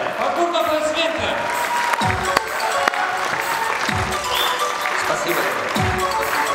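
Audience applause at a motivational talk in Tajikistan, steady dense clapping throughout with crowd noise and a few louder thumps, voices faintly mixed in.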